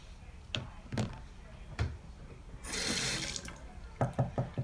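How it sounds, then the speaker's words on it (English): A bathroom tap runs briefly over a toothbrush, a short hissing splash between clattering knocks and taps, close and moderately loud. "I just rinse a little water on it."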